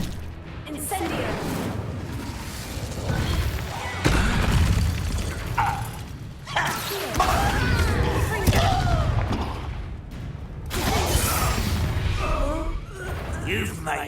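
An Incendio fire spell is cast in a Hogwarts Legacy battle, rough booming and crackling blasts in several bursts over loud combat noise, with voices talking throughout.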